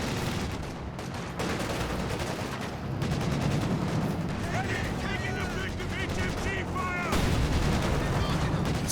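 A DShK heavy machine gun in Company of Heroes 2 fires through a dense wartime battle soundscape of continuous gunfire, distant explosions and rumble, with loud overlapping bursts and a commentator talking over it.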